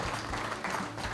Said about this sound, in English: Merck Pharmaceutical deserves a big round of applause from all of us for this effort